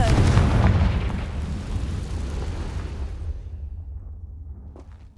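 Confringo blasting spell in the Hogwarts Legacy video game: one loud, close explosion with a deep boom that rolls and fades over several seconds.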